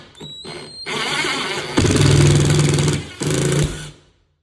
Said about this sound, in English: then you just kind of drill this baby in